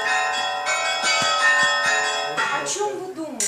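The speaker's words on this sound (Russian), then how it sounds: "о чем вы думаете, когда вы слышите звон колоколов?" Church bells ring in a steady pealing sequence, their sustained tones overlapping into a dense, resonant wash, with a few separate strikes standing out near the end.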